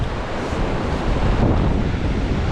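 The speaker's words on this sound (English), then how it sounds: "Very windy out here, which is, hopefully you can hear me talk or hear us a little bit." Strong wind buffets the microphone on an open Pacific Ocean beach while surf rolls in, a loud, steady roar of gusts and crashing waves with no voices.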